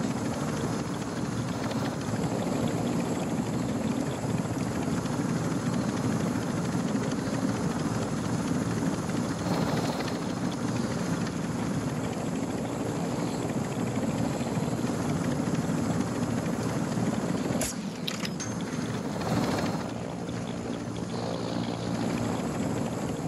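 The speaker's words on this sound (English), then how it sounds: "All Ultra, that helo is fueled, ready to provide exfil." Helicopter in the video game Call of Duty DMZ, a continuous heavy rotor thump and turbine roar that stays loud and steady throughout, with brief clicks and game effects on top and no talking.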